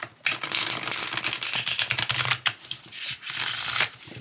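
A deck of Llewellyn's Classic Tarot cards is riffle-shuffled by hand, giving close, crisp bursts of rapid flapping with short pauses between each shuffle.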